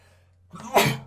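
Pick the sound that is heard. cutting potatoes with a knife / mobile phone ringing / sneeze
sneeze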